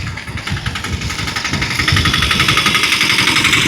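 Close by, a vehicle engine runs loud and steady with a rapid, rhythmic chugging that grows slightly stronger as the clip goes on. The vehicle is for sale in Tiruchendur.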